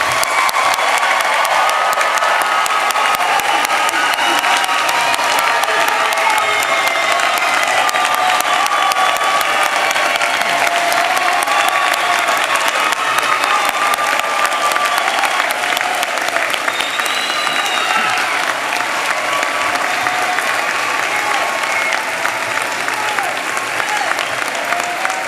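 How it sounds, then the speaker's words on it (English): Sustained, dense applause from a large audience honoring graduates at a fall commencement ceremony, steady and loud for the whole stretch with faint cheers mixed in. "please join with me as we honor all these graduates with a well-deserved round of applause"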